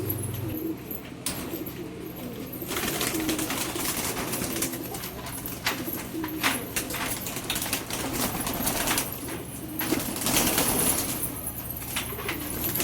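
Racing pigeons coo in a loft, a steady low murmur of overlapping calls with occasional wing flaps, close and continuous throughout.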